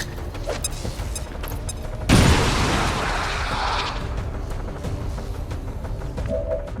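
A grenade detonates in XCOM 2: War of the Chosen, a single sudden loud blast that rolls into a crackling, debris-filled rumble lasting a couple of seconds before it settles back into low background game noise.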